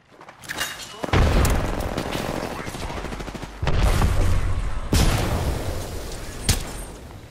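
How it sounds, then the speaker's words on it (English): A frag grenade goes off in a video game with a loud boom, followed by further heavy blasts and sustained gunfire-like rumbling, with a sharp crack near the end. "Alright, frag out."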